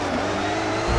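A car drifting in CarX Drift Racing Online, a loud sustained engine drone with hissing tire noise, rising with a low surge near the end, close and without speech.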